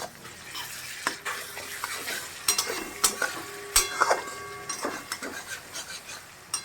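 Ginger-garlic paste frying in a pan for bhetki fish pulao, a soft steady sizzle broken by sharp scrapes and clinks of a spatula stirring against the metal, fairly quiet and close.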